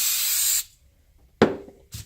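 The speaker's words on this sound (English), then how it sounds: "spray my aluminum foil" Cooking spray hisses steadily onto aluminum foil for about half a second, followed by two shorter, rougher bursts after a brief pause, close and clear with no talking.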